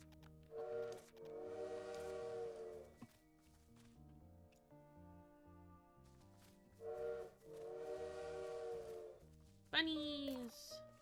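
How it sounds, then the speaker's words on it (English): A steam train whistle sounds twice in the cozy video game Little Witch in the Woods, each a long sustained harmonic blast separated by a pause, set over a soft looping game melody, with a rising chime at the end. "the sound of the train whistle."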